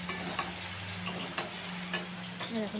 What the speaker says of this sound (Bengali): এখন ঢ্যাঁড়স আলুটা মোটামুটি ভাজা হয়ে যাচ্ছে